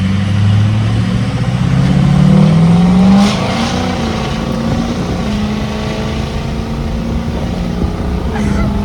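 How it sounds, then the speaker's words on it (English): A Ford 6.0 Powerstroke diesel truck with a Smeding non-VGT turbo pulls away from a standstill at full throttle, a loud engine roar rising in pitch then holding steady as it drives on, with someone speaking over it. "I'm just gonna go from nothing, and I'm just gonna step on the throttle and we're gonna go."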